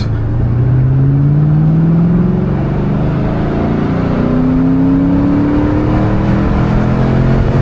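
A Ford Mustang engine revs hard toward the red line, its pitch climbing steadily in two long sweeps, loud and close throughout with no talking.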